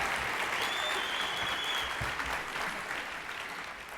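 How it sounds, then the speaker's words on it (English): An indoor audience at a live session gives sustained applause, a steady dense clapping that fades slightly toward the end. "Let's give them all another round of applause."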